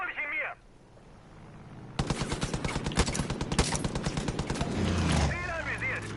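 Rapid automatic gunfire in Far Cry 5 rattles in a loud sustained burst for about three seconds, with brief voices before and after it.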